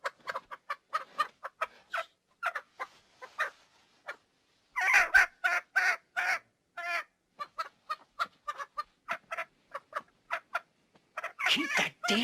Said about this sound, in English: Keep that damn chicken quiet.